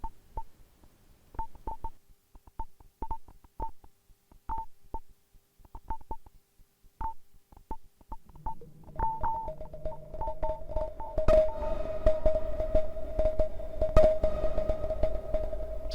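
Kastle Drum synthesizer playing dry beats with no reverb: sparse, clicky pulses in an irregular pattern at first, then a sustained tone and denser, noisier hits building up and growing louder.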